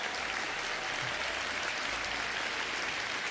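A live podcast audience gives a steady, even round of applause, a continuous wash of clapping at moderate level with no pauses.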